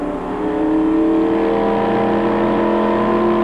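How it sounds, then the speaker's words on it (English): Field of stock cars at the 1996 Michigan Miller 400 roaring out of turn four on a D-shaped oval, a dense continuous engine drone that swells early then holds loud and steady. "Back on the track as the field roars out of turn number 4 and back down through the Big D portion of the racetrack"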